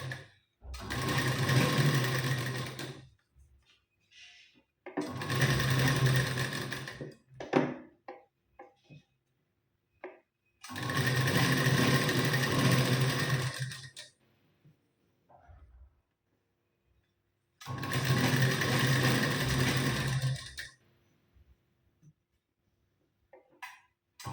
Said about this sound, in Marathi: व्यवस्थित आपल्याला शिलाई देऊन घ्यायची, घाई करायची नाही इथे.